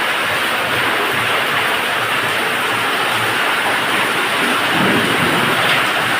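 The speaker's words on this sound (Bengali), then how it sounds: "আর এখন দেখেন প্রচুর বৃষ্টিপাত হচ্ছে, প্রচুর বৃষ্টি, মুষলধারে বৃষ্টি" Torrential monsoon downpour roars steadily and loudly, a dense unbroken wash of falling water with no voices.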